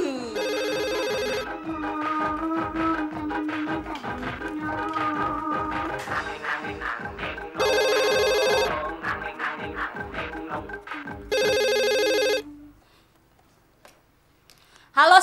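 A telephone rings at night in a house, with three loud trilling bursts of electronic ringing spaced a few seconds apart over a steady ticking backdrop, then stops abruptly.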